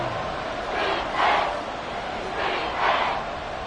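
A stadium crowd in the football video game Madden 24 roars in two rising swells over a constant wash of crowd noise.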